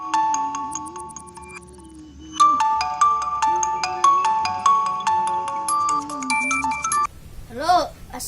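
A phone ringtone plays a bright, repeating melody of clear electronic tones for about seven seconds, with a person's voice humming or talking low beneath it before the ringing cuts off into a short spoken burst.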